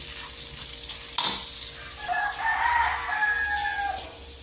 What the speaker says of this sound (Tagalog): At ako po ay magsasangag ng aming kanin.